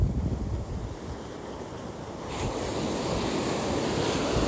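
Ocean waves wash onto the Kashima-nada surf beach in Japan, a steady broad hiss of surf with wind buffeting the microphone, growing louder after a couple of seconds.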